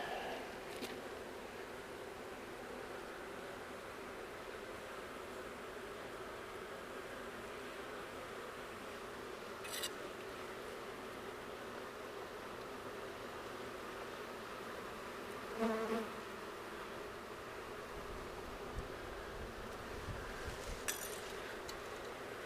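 Soft, steady insect buzzing from many honey bees on a hive frame, a low continuous drone with a few faint clinks and knocks over about twenty seconds.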